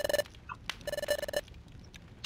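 A telephone rings in two bursts at a room's background level, the second lasting longer, with a brief clatter between them and no talk over the ringing.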